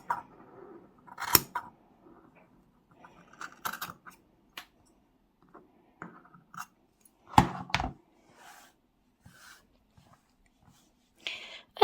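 Scissors snip through crochet yarn tassels in a quiet room, a few sharp isolated cuts spaced out over several seconds with soft handling noises between.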